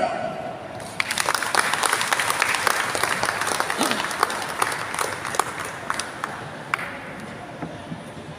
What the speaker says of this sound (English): Ladies and gentlemen, help me welcome with a big head of applause, Dr. Mario C. Lucero.